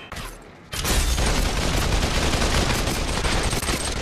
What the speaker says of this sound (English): It's shooting at me now.